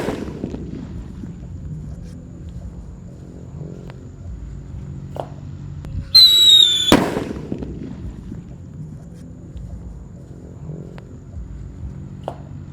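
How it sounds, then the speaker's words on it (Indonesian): A jumbo red Pearl Thunder firecracker goes off under a basin outdoors: a brief hissing whistle, then one sharp, loud bang with a short rattling tail, set against quiet background ambience. "ini mercon yang ukuran jumbo pearl thunder guys, warna merah. Kita nyalakan, kita tutup dengan baskom ya."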